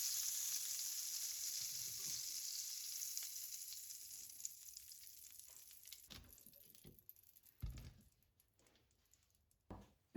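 Broccoli sizzles in a hot pan with buffalo steak juices, a steady bright hiss that slowly fades, with a few louder clatters and stirs near the end.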